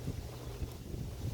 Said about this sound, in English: Windy out here, please excuse the noise.